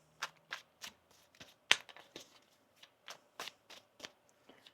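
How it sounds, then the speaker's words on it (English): Tarot cards are shuffled by hand in a quiet room, a run of soft, close riffles and slaps repeating in an irregular rhythm with no voices. "One more shuffle here."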